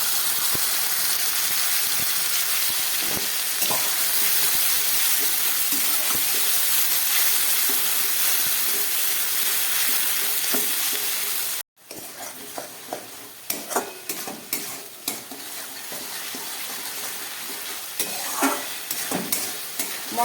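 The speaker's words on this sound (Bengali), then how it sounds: "মশলাটা অনেকটাই ভাজা হয়ে গেছে।" Onion-tomato spice paste for a Bengali fish kalia fries steadily in a pan with a constant sizzle, stirred by a utensil scraping and tapping throughout; a brief break near the middle, then the stirring resumes with sharper clatters.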